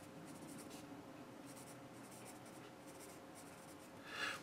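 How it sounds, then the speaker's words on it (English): A Tombow Mono 4B graphite pencil writes on paper with a continuous soft, grainy scratching at low level, steady throughout and swelling briefly near the end. "Now you can use this for writing, of course, and that's what we're doing right here."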